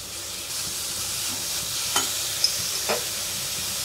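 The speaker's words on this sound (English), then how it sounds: "Fry it for 5 to 10 minutes till the broth smell goes." Grated bottle gourd frying in a pan for lauki kheer: a dense, even sizzling hiss throughout, with a few soft stirring clicks on top.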